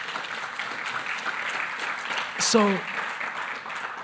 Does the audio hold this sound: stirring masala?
no